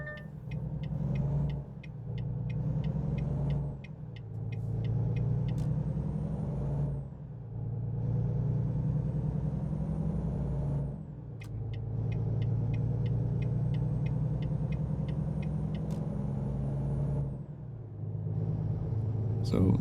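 A truck driving in American Truck Simulator: a steady low engine drone that swells and dips through gear changes, with ticking indicator clicks over it and someone talking throughout.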